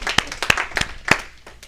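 Brief scattered clapping from a small audience at a talk, a few sharp separate claps in a loose, uneven burst over under two seconds.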